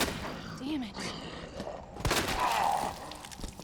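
A single sharp gunshot lands in a Resident Evil 2 headshot, a loud burst cutting through tense in-game ambience and faint groaning, with shot noise lingering afterward.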